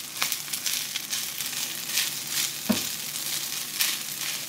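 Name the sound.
garlic and rice frying in a pan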